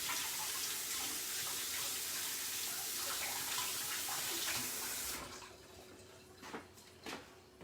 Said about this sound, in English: Rinse of the hands.